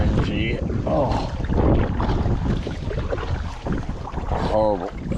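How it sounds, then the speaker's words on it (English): Strong wind buffets a fishing boat on the water, a heavy roaring rush across the microphone, with a voice calling out over it. "horrible wind."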